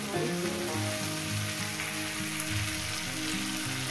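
Sliced okra (bhindi) frying in a pan for a vendi posto dish, with a dense, continuous sizzle and bubbling that stays even and close for the whole stretch, no voices.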